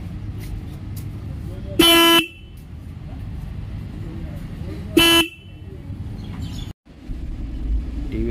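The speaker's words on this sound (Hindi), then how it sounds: "इस रॉनिन में सिंगल हॉर्न मिलता है," The single horn on a 2023 TVS Ronin 225 motorcycle is pressed twice, giving two short, loud, bright honks a few seconds apart over a steady background hum.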